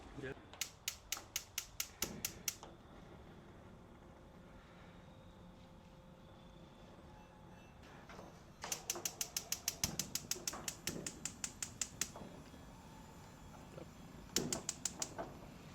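Gas grill push-button igniter clicking in rapid, evenly spaced bursts, one run early, a longer run midway and a short run near the end, close and crisp with quiet gaps between.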